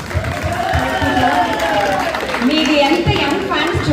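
Seated audience at a community prize-distribution and honouring function claps steadily, a dense, continuous patter with murmured chatter and a voice over it, loud and close throughout.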